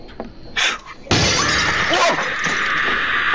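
A glass-shattering jump scare in a horror video game: a loud, sudden crash of breaking glass that hangs on as a bright, sustained ringing hiss, with a voice crying out over it.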